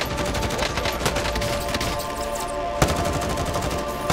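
Rapid automatic gunfire rattles in dense bursts during a Call of Duty Warzone match, loud and continuous with a sharper shot standing out near the end.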